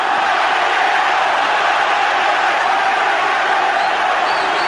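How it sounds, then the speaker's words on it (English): A boxing arena crowd at a championship bout roars in a loud, unbroken wall of cheering and shouting that stays constant throughout. "Just listen to the crowd."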